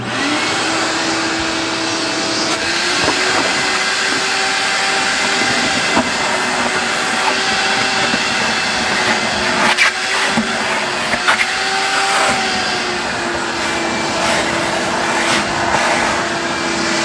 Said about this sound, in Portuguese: Vamos succionar essa água aqui, utilizando o aspirador.